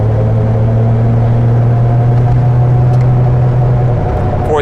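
A 1973 Triumph TR6 engine cruising in fourth gear overdrive, a loud steady low drone heard from inside the car, holding even before a slight drop in pitch at the end.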